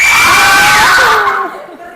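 Students in a classroom shouting together as loud as they can, a loud, sustained crowd of screaming voices that tapers off after about a second and a half.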